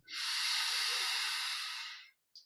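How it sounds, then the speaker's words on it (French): A deep breath in during guided meditation: one long, close, airy inhale lasts about two seconds, followed by a tiny faint breathy tick. "On prend une grande inspiration"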